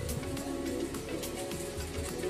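Pigeons coo inside a loft, with low, soft, repeated throaty calls close by over a steady background hum.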